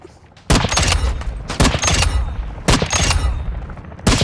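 Video game gunfire comes in loud, close bursts of rapid automatic shots, three or four volleys split by short pauses, with no voices over the firing.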